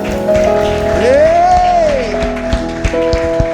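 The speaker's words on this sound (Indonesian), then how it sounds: "Sekali lagi berikan tepuk tangan buat Tuhan dong" Young congregation at a youth worship service applauding under sustained music with a gliding tone, the clapping a broad continuous wash that thins toward the end.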